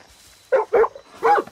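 A dog in the video game Far Cry 6 gives three short, close barks in quick succession, clear and alone.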